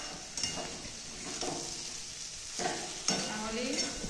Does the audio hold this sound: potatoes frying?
yes